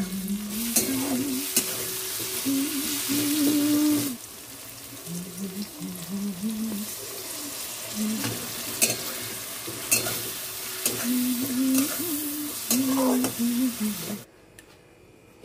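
Spice paste (masala) being cooked down and stirred in a pan sizzles continuously, with scraping strokes of a spatula and a faint background hum, ending abruptly near the end.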